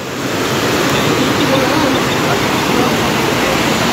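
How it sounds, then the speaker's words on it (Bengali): Water from the Mundeshwari river rushes through a breach in a concrete embankment at Chabbishpur in Hooghly: a loud, steady, close roar of gushing floodwater with no break, like surf or a waterfall. "এই বাঁধ ভাঙার ফলে হু হু করে জল ঢুকছে"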